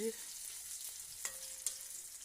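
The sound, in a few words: stirring onion frying with cumin in a pan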